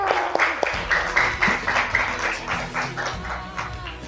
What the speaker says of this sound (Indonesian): Tepuk tangan, ini banyak yang 100 anak-anak sekalian.